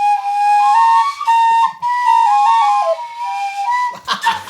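Two playable mushroom flutes sound together in a clear, close, loud whistling tone with sliding pitch changes and short pauses, ending in a brief burst of breathy noise.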